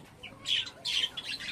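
Java sparrows in a breeding setup with clay nesting pots call in a few short, sharp squawking chirps, close and fairly clear against a quiet background.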